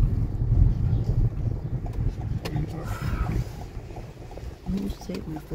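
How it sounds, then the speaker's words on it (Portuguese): Wind gusts rumble low against the microphone outdoors near a flower-lined road in Canitar, São Paulo, a steady blustery roar that rises and falls under people talking. "O vento faz um barulho, né?"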